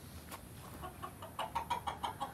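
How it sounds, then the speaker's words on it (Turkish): Hens clucking in a backyard poultry coop in a home hobby garden that keeps ornamental and egg-laying breeds. A series of short, rhythmic clucks grows louder toward the end over a low background rumble, with no talking. "Keyif veren bir tavuk cinsi"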